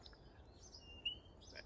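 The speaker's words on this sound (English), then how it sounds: "Can hear chirping house sparrow." A house sparrow chirps in a garden, a thin, faint call with one brief brighter chirp partway through over soft background noise.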